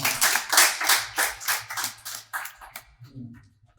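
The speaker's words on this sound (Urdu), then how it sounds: "آپ کی بھرپور تالیوں میں" An audience at an Urdu poetry mushaira in a milad house claps in welcome for a poet, a burst of hand applause in quick, uneven pulses that thins out and stops after a few seconds.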